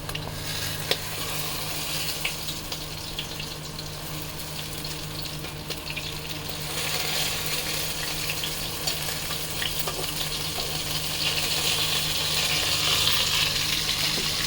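Enduri pitha frying in a pan, a steady close sizzle that grows slightly louder toward the end, with faint scraping of stirring and no talk.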